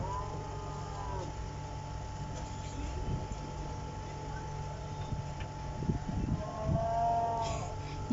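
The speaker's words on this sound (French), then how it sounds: "Ils ont mis un bruit de lait, enfin de vache, quand le lait sort." A bulk milk dispenser plays a recorded cow moo as the milk flows, a steady tonal lowing heard near the start and again near the end over constant machine hum, with faint background voices.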